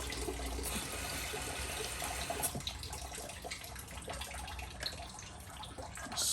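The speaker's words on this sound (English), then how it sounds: "Slosh it around a little." Water sloshes inside a rock tumbler barrel used for tumbling obsidian, a steady close washing swirl of liquid that runs throughout with no voices.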